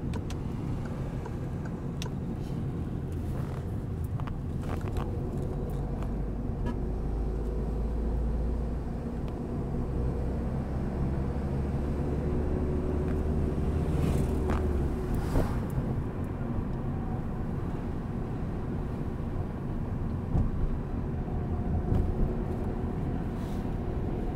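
A car accelerating in second gear during a driving lesson on narrow streets, a low steady engine hum from inside the cabin with some wind noise, moderately quiet and continuous, no talking.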